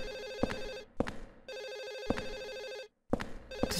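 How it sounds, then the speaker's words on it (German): A telephone rings in the video game Silent Hill 4: The Room, repeated electronic bell trills in regular bursts separated by short silences, clear and alone. "Mann, Telefon, wo bist du? Es klingelt und klingelt und klingelt."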